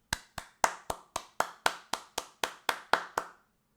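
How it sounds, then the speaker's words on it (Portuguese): Twelve sharp hand claps in a steady, even rhythm, close and distinct with no talking over them. "Aplausos."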